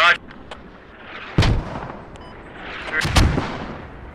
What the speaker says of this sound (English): I've got mortars gonna land on top of your position.